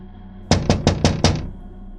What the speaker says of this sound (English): there was another knock on the window